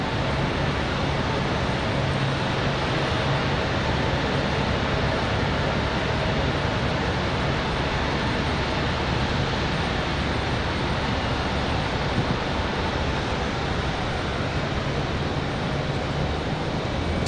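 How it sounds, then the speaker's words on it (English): An Air France Boeing 777 arrives at Raleigh-Durham International in windy weather, a steady, loud broadband engine roar that holds evenly throughout with wind noise mixed in and no talking. "up next, the Air France 777, the one we've been waiting for all day."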